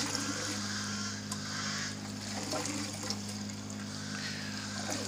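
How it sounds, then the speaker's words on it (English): Water flowing through an aquaponics grow-bed siphon in a catfish fingerling system, a steady low trickling and gurgling flow under a constant pump hum. "the siphon starts even with very little amount of flow, like this"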